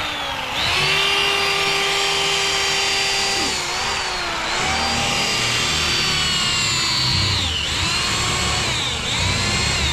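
A power drill whines steadily and loudly, its motor pitch dipping and rising as it bites in, with brief pauses between runs.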